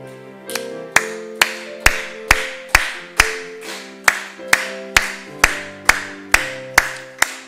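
Loud, regular unison clapping keeps time for a hymn at a Korean church evening service, about fourteen sharp claps at a steady beat over sustained piano and organ-like chords, with no singing audible yet.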